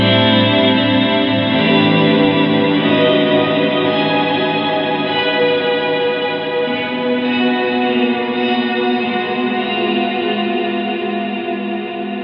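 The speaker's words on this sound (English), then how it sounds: "if I engage the kill dry switch, you'll just hear the reverb signal" A Fender Marine Layer reverb pedal with its kill-dry switch engaged puts out only the wet reverb signal: lush, sustained washes of guitar tone with shimmering, chorus-like layers swelling and slowly fading, loud and alone.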